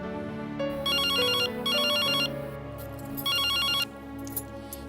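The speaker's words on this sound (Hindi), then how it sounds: "घर पर फोन करके बता देती हूँ।" A telephone rings indoors with a bright electronic warble in three bursts over a soft background music bed, with no voices.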